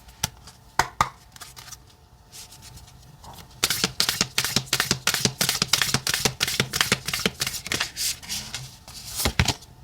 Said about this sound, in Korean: 한 번만 더 셔플 할게요